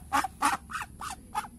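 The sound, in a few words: Muscovy duck call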